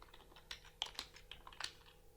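Someone typing code on a computer keyboard with quick, uneven clicks and a few sharper key taps, close and quiet over a faint background hum, with no talk.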